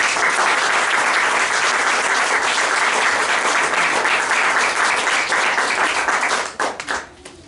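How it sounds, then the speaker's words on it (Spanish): Church congregation clapping as an offering to the Lord, loud dense applause from many hands filling the room, sustained evenly for several seconds before tapering off into scattered final claps. "No sé si le quieren dar una ofrenda de palmas al Señor"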